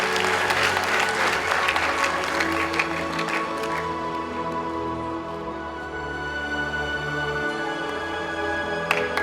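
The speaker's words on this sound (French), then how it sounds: "Ça s'applaudit très très fort." Applause rings out at a young film talent awards ceremony as the best screenwriter trophy is presented, a crowd clapping moderately loud and gradually thinning, with music and murmuring voices underneath.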